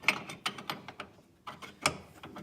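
Metal wrench being fitted onto an Opel rack and pinion, a quick series of close, sharp clicks and ratcheting clacks in an irregular rhythm.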